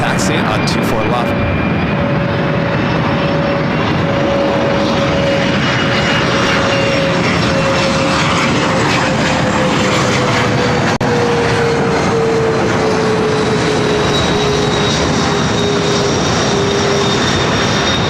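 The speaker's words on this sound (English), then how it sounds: "Lufthansa now getting the clear to back taxi on 24 left." Lufthansa airliner back-taxiing on runway 24 left at LAX, a steady jet engine roar with a slowly falling whine, loud and continuous throughout.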